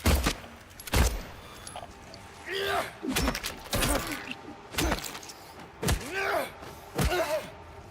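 Several sharp gunshots from Silent Hill 2 Remake, sounding as spaced single blasts roughly a second apart amid game ambience, with heavy footfalls and a creature's gasping cries between them.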